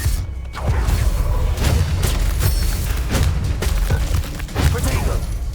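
A spell is cast during a duel in the Hogwarts Legacy video game, with a series of loud, rapid booming magical impacts and bursts over dense battle noise.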